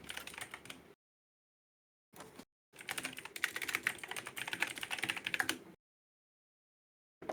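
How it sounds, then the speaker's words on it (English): Rapid clicking of keys on a computer keyboard comes in dense bursts separated by silent gaps, close and crisp, with no talking. "Intense typing."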